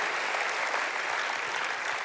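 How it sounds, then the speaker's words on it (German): A church congregation applauds at a steady, dense level for two seconds, with no voices rising above the clapping. "Lass uns für das Gott einen Applaus geben"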